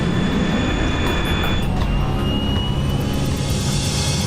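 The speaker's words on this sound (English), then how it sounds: "The plane lifts off the runway." A loud, continuous engine roar fills the scene as an airplane lifts off the runway, holding a dense, unbroken rumble with a rising tonal whine. No one speaks.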